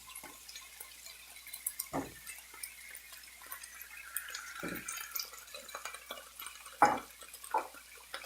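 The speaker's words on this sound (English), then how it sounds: "I'm going to add 1 pound of shrimps" Raw, cleaned and deveined shrimp added to a pan, heard as a few soft wet plops and clatters spaced apart over a quiet background, followed by faint drips and light scraping.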